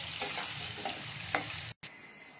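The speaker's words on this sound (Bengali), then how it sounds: "এটাকে একটু লাল করে ভেজে নেবো আমি" Potatoes frying with salt and turmeric in a pan, a soft, steady sizzle with a few light stirring scrapes, fairly quiet and close, cut by a brief silence near the end.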